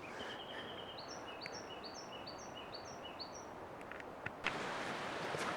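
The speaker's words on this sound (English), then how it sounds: "Stop, listen to the birds." A small bird repeats a high, thin series of descending chirps in the mountain air of a lodgepole pine forest, faint over a steady hiss of wind or nearby running water.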